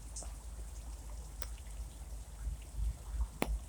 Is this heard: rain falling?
yes